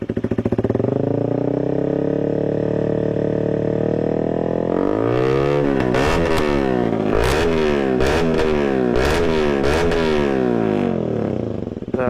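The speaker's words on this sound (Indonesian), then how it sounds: "jadi untuk suara full gasnya tuh kayak gitu" A motorcycle with a CLD Monster aftermarket exhaust idles with a rough drone, then revs hard at full throttle in repeated loud blips with crackling exhaust pops, close and aggressive.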